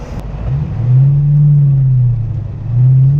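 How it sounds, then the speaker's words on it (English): A manual car revs and accelerates in pouring rain, its engine droning loud and close in two rising surges with a brief dip between, no voices. "gonna do some slightly spirited driving"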